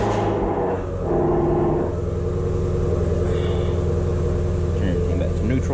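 A Ford Mustang S550 engine fires up and settles into a steady, loud idle rumble close by, with a voice talking over it.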